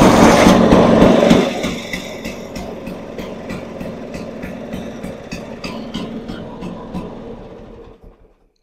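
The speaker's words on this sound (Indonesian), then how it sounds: "Oke, mesin udah langsung nyala." A small engine turns over and catches right after its ignition timing is set to 21 degrees following a contact-breaker points change, then settles into a steady, close idle with a fast running rhythm before cutting off near the end.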